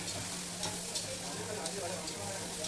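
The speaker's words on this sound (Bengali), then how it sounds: "ভালোভাবে মাংসটা নেড়ে নেবেন পেঁয়াজের সাথে।" Chicken pieces fry with onions in a pan, giving a steady, close sizzle throughout, with faint soft scrapes from stirring recurring every second or so.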